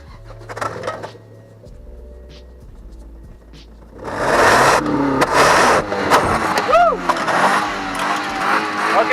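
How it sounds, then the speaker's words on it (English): An LS-swapped Chevy Nova with Hooker exhaust revs hard partway through, a loud rasping burst that rises and falls after quieter idling, with people talking around it. "Give it a little rev."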